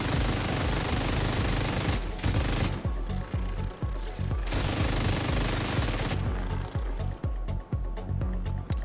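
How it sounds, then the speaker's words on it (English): Rapid automatic gunfire from shooting in The Division 2, sustained loud bursts of rifle fire with dense overlapping shots across the whole stretch, occasional short gaps between volleys. "Just pointing and shooting."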